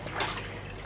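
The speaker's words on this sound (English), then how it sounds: "having a bath." Soft water sloshing and dripping as a baby is bathed, a gentle continuous wash of liquid with small splashes, close by and fairly quiet, no talking.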